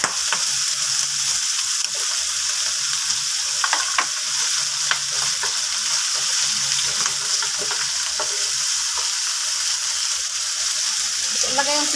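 Chopped garlic frying in a pan for pork adobo, a loud continuous sizzle and crackle with scattered scraping stirs, steady throughout without speech.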